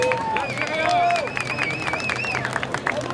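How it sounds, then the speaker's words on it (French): A street protest crowd against pension reform claps and cheers in loose, scattered applause, with whistles and chatter over the top. "Les applaudissements."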